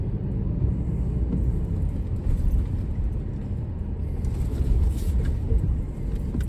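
A 2019 Ford Ranger pickup crawls down an off-road trail, giving a continuous low engine rumble with scattered bumps and rattles from the rough ground, close and steady throughout.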